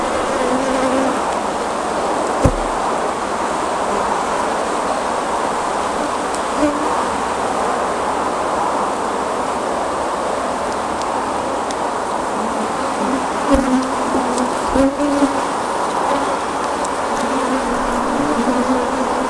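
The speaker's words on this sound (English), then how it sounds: "looking down I can see the bees are working all of the frames" Honey bees buzz steadily over open hive frames during a beehive check, a dense close continuous hum that persists throughout with a few brief knocks.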